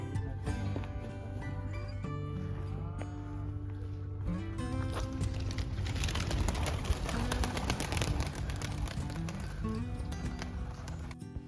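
Pigeons kept at a village house coo and murmur steadily nearby, a continuous layered bird sound with scattered knocks and rustles around it.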